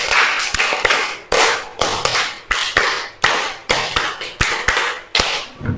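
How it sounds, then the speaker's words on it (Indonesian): A class claps a rhythmic patterned clap in unison, the triangle clap done twice: a crowd of sharp claps and taps in repeating groups, loud and close, no voices. "2 kali tepuk segitiga."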